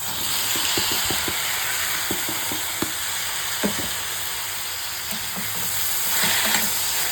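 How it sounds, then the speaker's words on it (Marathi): Chopped tomato dropped into sautéed onion sizzles steadily in a hot pan, with repeated scraping stirs of a spoon clicking against the metal over the constant frying hiss. "टमॅटो टाकलं, ठीक आहे. एकदा हलवून घ्यायचं."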